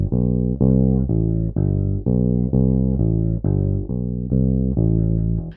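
Bass guitar works through a scale drill in thirds, going up the first pair of notes and down the second. Each note sounds loud, sustained and evenly spaced, played alone without talk.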